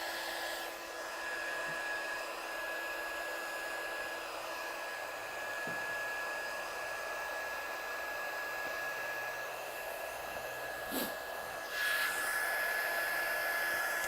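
A heat gun warms freshly stamped ink to set it, blowing a steady, moderately loud whoosh with a faint high whine for about fourteen seconds and a brief extra burst near the end.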